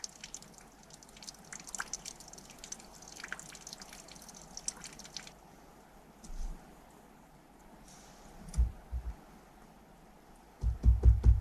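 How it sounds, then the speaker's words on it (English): Water dripping from a cut radiator pipe, a steady run of small drips near at hand, quickening into louder, heavier drops toward the end, with no talk. "you can see that water drip speeding up"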